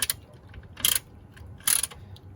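Hand-tightening a part while servicing a 1990 Volvo 240, heard as two short bursts of ratcheting clicks about a second apart over a quiet, low background hum.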